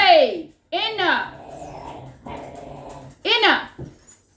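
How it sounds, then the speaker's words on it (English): Two dogs scuffling indoors in a house, with sharp whimpers, yelps and growls in loud bursts separated by brief pauses, close to the microphone. "dog's having a bit of a scrap"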